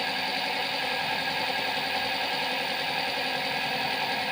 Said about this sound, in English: Supply on and motor is running successfully.